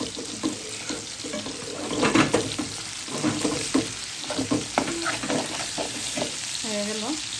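Bitter gourd (karela) fries in a pan, making a close, continuous sizzle broken by scraping stirs and clinks of a spatula at an uneven pace, with a faint voice-like sound near the end.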